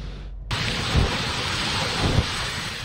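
Heavy rain falls steadily on surfaces in Baguio City, a loud continuous wash with low rumbles of thunder rolling in twice beneath it.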